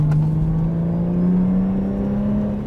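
Subaru Liberty sedan fitted with an aftermarket exhaust accelerating from about 40 to 60 km/h, a steady deep engine drone rising slowly in pitch, loud and close, heard from inside the car with no talk.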